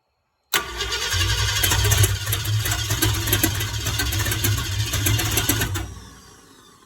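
An old Ford F-100 pickup with a 390 V8 and high fuel pressure cranks and catches abruptly, then runs at a loud, rough, rumbling idle for about five seconds before shutting off and fading.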